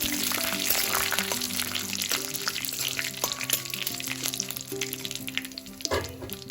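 Curry leaves dropped into hot coconut oil with mustard seeds and green chilies for tempering, a loud continuous sizzle and crackle with a brief burst near the end, close up with no voices.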